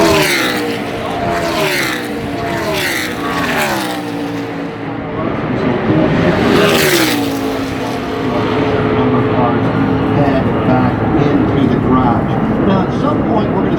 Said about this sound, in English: Working their way back to pit road after doing that are a gaggle of cars.